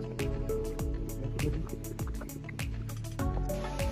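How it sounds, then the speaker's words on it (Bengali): Water from Chingri waterfall in the Bandarban hills falls and splashes, heard as close, irregular drips and plops over a soft, continuous trickle. "এই যে ঝর্ণার পানি ঝিল হয়ে পড়তেছে।"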